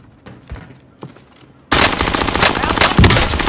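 Rapid automatic gunfire in Call of Duty bursts in loud and close after a quiet stretch, keeping up a dense, continuous rattle with a few heavier shots near the end.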